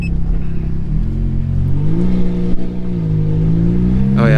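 A Ferrari F430 accelerates gently from a slow start, its engine note rising steadily in a low, close drone with smooth gear changes and a brief revving swell at the end.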